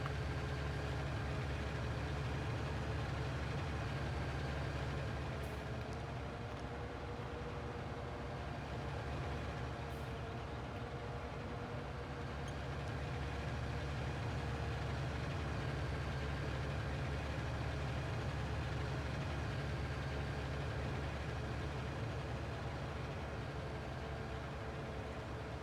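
A Valtra tractor engine in a farming video game drones steadily as it climbs a hill, with a continuous low, heavy rumble that holds at a constant level throughout and no voices.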